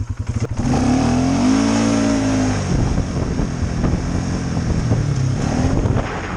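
A Polaris Sportsman 570 ATV in low range revs up hard and holds a loud, strained engine drone, with heavy wind buffeting on the microphone and no talking.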